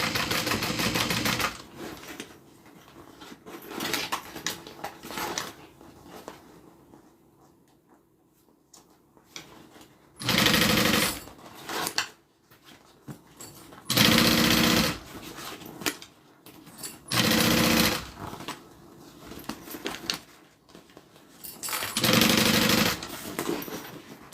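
A sewing machine stitches around fabric in repeated loud bursts of rapid mechanical rattling, separated by quieter pauses while the material is turned, close up.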